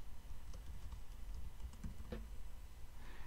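Quick keystrokes on a computer keyboard as a project name is entered in NetBeans, light scattered clicks over a steady low background hum, close and faint, no voices.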